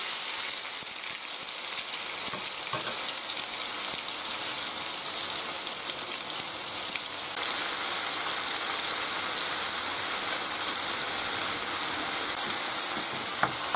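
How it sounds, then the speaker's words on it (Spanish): Tomato and garlic sautéing in hot oil in a frying pan, a steady dense sizzle and crackle with occasional sharper pops, close and continuous throughout. "Ya está bien rehogado el tomate y el ajo"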